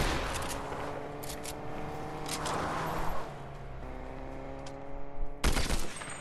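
Combat Assault Rifle firing in the video game Fortnite, with sharp repeated shots in short bursts over game background sound, a louder burst near the end, no talking.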